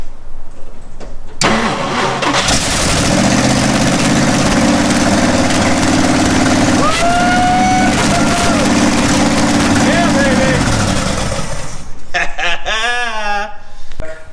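A Jeep J2000 engine, its fuel tank fed straight to the carburetor, cranks and fires, then runs loud and rough at a steady idle close by before cutting out into a few sputtering catches.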